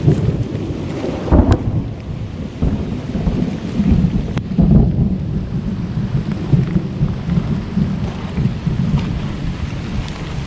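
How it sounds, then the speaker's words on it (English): A thunderstorm with heavy pouring rain in the Ozarks roars steadily and loudly throughout, with deep rumbles of thunder and a couple of sharp cracks rising above the constant downpour; no voices. "It is absolutely pouring down rain right now."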